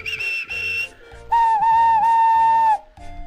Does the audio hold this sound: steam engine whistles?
yes